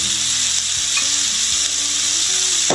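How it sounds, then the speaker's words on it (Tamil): Ridge gourd and peanuts sauté in oil in a pan, giving a steady, loud, close sizzle with occasional stirring scrapes and no talking. "நல்லா வதக்கிட்டே இருக்கணும்."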